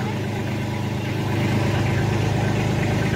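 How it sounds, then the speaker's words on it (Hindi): A small Kubota tractor, a B2441 4x4, drives along with its diesel engine running steadily close up, a low rumbling drone with a faint rhythmic pulse that grows slightly louder over the few seconds. "भाइयों मैं आज ट्रैक्टर चला रहा हूँ छोटा कुबोटा"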